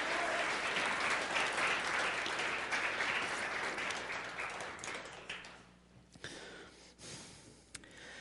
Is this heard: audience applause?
yes